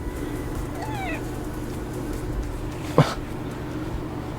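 A neighbor's cat named Barnaby lets out a short, rising meow, followed moments later by a sharper single call, close by over a steady background hum during a car tail-light install.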